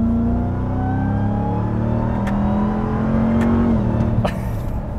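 Close, loud roar of a 2021 Ram 1500 TRX's supercharged engine under hard acceleration, its pitch climbing steadily with a brief shift dip and supercharger whine riding on top.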